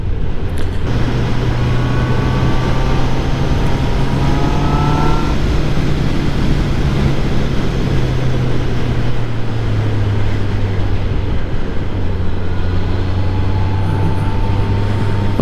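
A QJ Motor SRK 800 four-cylinder roadster on Pirelli tyres and 17-inch wheels rides at speed, its engine a loud, steady drone with wind roar and gradual pitch shifts as it accelerates and changes gear, no talking.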